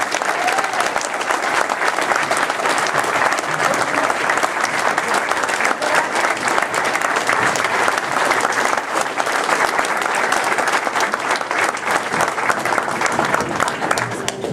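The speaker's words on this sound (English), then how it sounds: "A great round of applause for John Radka." Sustained, dense applause from an audience at an awards ceremony, steady and loud without a break for the whole stretch.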